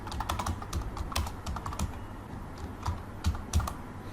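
A short message is typed on a computer keyboard, with steady, closely spaced key clicks sounding up close and no one talking.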